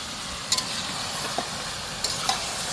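Hariyali chicken masala cooking in oil in a pan, a soft continuous sizzle with a few sharp clinks and scrapes of a spoon stirring, fairly quiet and without talk.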